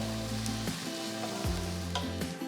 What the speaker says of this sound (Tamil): நெக்ஸ்ட் 25 சின்ன வெங்காயம் மெலிசா நறுக்குனது சேர்த்து வதக்குங்க.